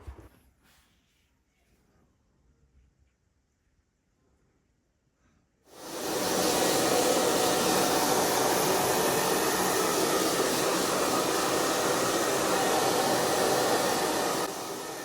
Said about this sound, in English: I then use a hairdryer on a warm setting to thoroughly dry the record